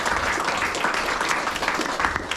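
An audience applauds the organisers of a museum exhibition on sacred beliefs in Castellane with steady, dense clapping from a small crowd, close and continuous throughout.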